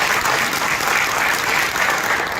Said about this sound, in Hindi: जोरदार तालियां आपकी ट्रेनिंग के लिए।